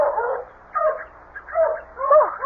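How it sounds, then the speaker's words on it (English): Several dogs bark and yelp in short, excited bursts, four clustered volleys close together in a radio drama scene, fairly loud and with no talking over them. "I'll get the dogs quiet."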